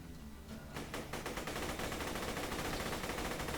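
A Vladof assault rifle in Borderlands 2 spins up from a slow start into rapid, continuous automatic fire, the shots quickening and blurring into a dense, steady rattle with no talk over it.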